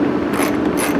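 Nuts thread onto fog light mounting studs on a Jeep WJ, a quick close metallic ratcheting clatter lasting about a second.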